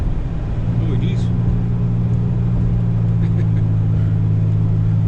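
A vehicle drives fast, with a loud, steady engine and road drone that continues without letup for the whole stretch.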